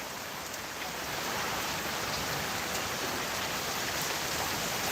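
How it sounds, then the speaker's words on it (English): Steady rain falling outdoors, a dense continuous hiss that stays loud and even throughout, with no voices over it. "Can you guys hear that rain?"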